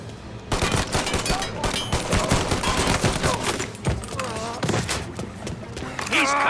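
Bursts of gunfire from a shootout in Mafia: Definitive Edition rattle in quick volleys, with someone shouting during the firing.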